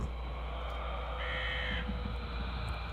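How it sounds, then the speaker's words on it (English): A single drawn-out crow caw in the video game Heat or Die, moderately loud over a steady low wind-like ambience, with no talking. "Was there always a bird there?"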